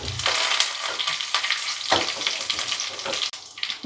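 Mustard seeds, green chillies and curry leaves sizzle and crackle steadily in hot oil for a dhokla tempering, a loud, close, continuous frying hiss with scattered pops and no talking.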